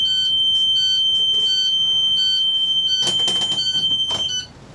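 Loud, continuous high-pitched electronic pulsing from a school bus emergency exit door alarm, with a brief burst of clatter near the end before the alarm stops abruptly.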